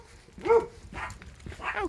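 A small dog barks a few times outdoors during a 10K run, giving three moderate yaps spaced about half a second apart with no talk over them.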